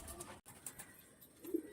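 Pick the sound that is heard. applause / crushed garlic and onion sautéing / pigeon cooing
pigeon cooing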